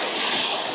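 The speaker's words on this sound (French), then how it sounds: "on a les vagues qui montent" Ocean waves wash up onto a shore in a steady broadband rush that swells slightly midway, filling the short stretch with no voices over it.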